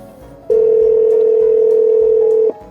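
Pressing the BlueLink button in a Hyundai Creta sets off a loud, steady electronic call tone. It holds for about two seconds and then cuts off, with quiet car-cabin ambience before and after.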